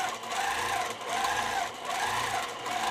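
Free-motion quilting in a tight ribbon candy pattern on a sewing machine makes a steady, close mechanical whir. It comes in bursts with brief pauses between stitching runs.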